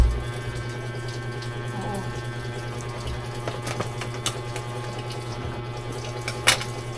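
Water runs steadily from a tap, a continuous splashing hiss nearby, with a few faint clinks and knocks over it.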